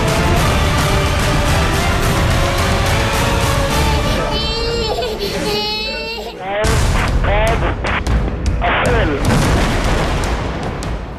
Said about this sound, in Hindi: फिलिस्तीन के इस घने रिहायशी इलाके में हुआ ये धमाका दहलाने वाला है